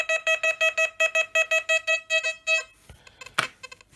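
A rapid series of about a dozen bright electronic beeps from an XP Deus metal detector passing over a coin, in a steady rhythm, then a few softer tones and clicks as it trails off.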